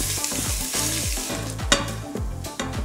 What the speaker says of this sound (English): start browning the meat in 3 or 4 batches